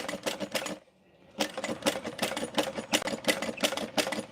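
A home sewing machine stitches in fast, regular bursts of mechanical clatter, close and loud, stopping once for a short beat before running steadily again.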